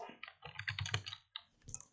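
Typing on a computer keyboard: a quick run of close, clicky keystrokes in two short bursts with a brief pause between, alone with no talking.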